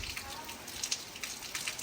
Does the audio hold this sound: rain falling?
yes